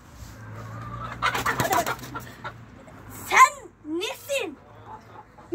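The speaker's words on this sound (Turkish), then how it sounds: "Kızdın tavukları." Chickens clucking and squawking in a yard, with short harsh calls from the hens rising near the end while people talk and shout close by.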